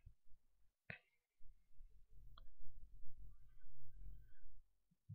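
Two sharp, crisp snips of scissors cutting through the plastic outer bag of a Lithuanian dry ration pack, close up and otherwise quiet.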